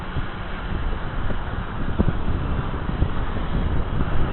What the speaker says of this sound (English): This wind is really, really strong